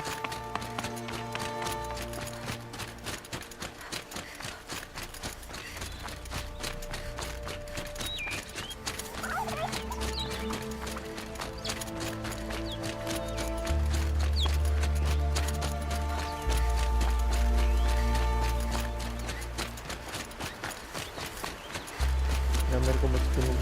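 A horse gallops in Horizon Zero Dawn, with rapid hoofbeats running under loud game music and a voice talking over it.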